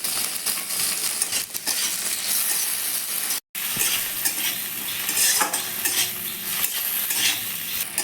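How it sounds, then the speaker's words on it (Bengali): Chopped tomatoes hiss and fry with already-browned onions in a hot pan, a steady broadband sizzle with spoon stirring and scraping throughout, broken by a brief silent gap near the middle. "এবার আমি কেটে রাখা টমেটো দিয়ে দিচ্ছি"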